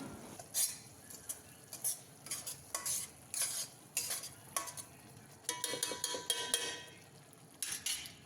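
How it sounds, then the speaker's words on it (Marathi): Masala spices sautéing in oil for a mutton head-and-trotters dish, with a quiet sizzle under repeated scraping and clanking of a spoon stirring in the pot. "मसाला हा तेलामध्ये छान परतलेला आहे"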